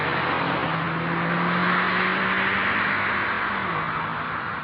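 A 2025 Mazda 3 sedan drives steadily, its engine a smooth, continuous hum mixed with road and wind noise heard from inside the cabin, with no talking.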